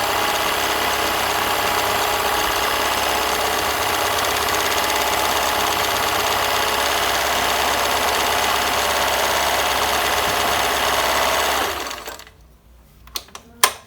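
A Bernina 730 sewing machine runs steadily as it stitches a decorative pattern, a loud continuous mechanical whir that stops near the end, followed by a few sharp clicks and taps.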